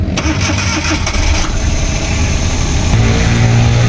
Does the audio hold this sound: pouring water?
no